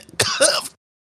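A single harsh, raspy cough or throat-clearing burst, close and loud, ending abruptly into silence.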